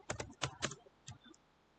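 Close, crisp keystrokes as a name is typed on a computer keyboard, a quick cluster of taps followed by a couple of slower ones, then quiet.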